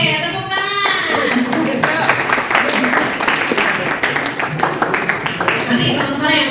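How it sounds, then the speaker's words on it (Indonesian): An audience at a school public-speaking session breaks into loud, continuous applause, dense clapping filling the room with voices mixed in throughout. "Oke, tepuk tangan."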